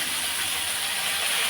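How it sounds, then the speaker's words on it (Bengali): Fish frying in hot oil on a stove, a continuous dense sizzling hiss that stays loud and even from start to finish. "আর চুলে মাছ ধরতেছি, সেই জন্য এইভাবে আওয়াজ হচ্ছে।"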